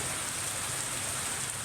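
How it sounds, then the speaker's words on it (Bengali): Heavy monsoon rain pours down in Bangladesh as a dense, steady hiss of drops on surfaces, loud and unbroken, with no voices. "বুধবার ভোর থেকে মুষলধারে বৃষ্টি"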